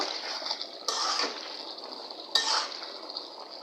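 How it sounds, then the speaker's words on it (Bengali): Water is poured into a pot of braised beef and potatoes in a home kitchen, making a soft, steady pouring rush with two brief splashy surges and faint clinks of the pot. "এখন পরিমাণ মতো পানি দিয়ে দিব।"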